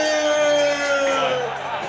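Golf fans at the 12th hole of a LIV event in Adelaide cheer and whoop as a loud crowd roar that swells and then fades over a couple of seconds.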